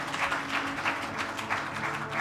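An audience gives a round of applause for the event team at the close of a vote of thanks: a full, continuous patter of many hands clapping at a moderate, even level with slight pulses throughout.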